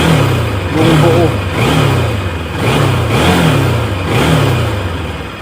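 A Honda NS200 motorcycle engine fitted with a Perfect Power CDI revs up and down in repeated surges, loud and close, with a deep throaty roar between each throttle blip.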